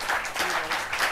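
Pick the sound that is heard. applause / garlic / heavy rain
applause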